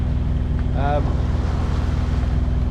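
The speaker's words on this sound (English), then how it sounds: "We didn't have enough wind to sail it, so we've had to put the engine on" A sailboat motors offshore under its engine on a windless passage toward the Azores, with a steady low diesel drone and rhythmic throb throughout and a brief voice over the top.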